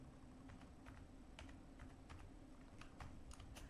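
Python code typed on a computer keyboard, a quiet run of irregular key clicks and taps at close range, with no voices.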